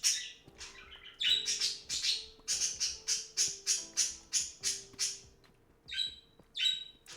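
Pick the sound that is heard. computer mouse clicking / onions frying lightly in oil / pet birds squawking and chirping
pet birds squawking and chirping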